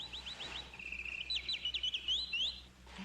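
A caged songbird sings a quick series of bright chirps and trills, with a steady low hum underneath and no voices.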